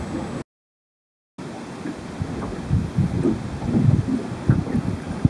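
Wind buffets the microphone during shore fishing at the Coorong in South Australia, a low, gusty rumble that rises and falls after a brief dropout, with no talking.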